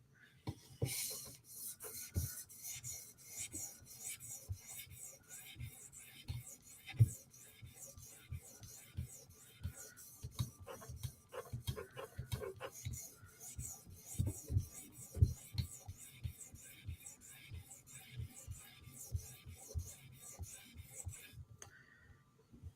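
A Tanto M4 PM2 knife blade rasps across an 800 grit sharpening stone in steady repeated strokes, close and fairly quiet, with a regular back-and-forth scraping rhythm throughout.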